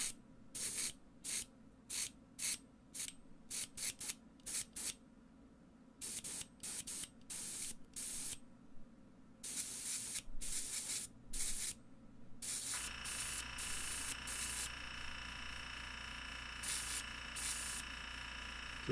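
An airbrush sprays paint in many short bursts of hiss with quiet gaps between, then settles into a longer continuous spray with a faint steady background drone.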